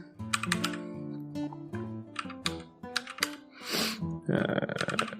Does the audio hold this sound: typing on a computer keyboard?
yes